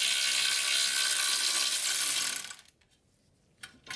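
Ratcheting wrench loosening the second front brake caliper bracket bolt on a Mercedes E350, a steady close metallic clicking for over two seconds, then near silence with a brief clink at the end.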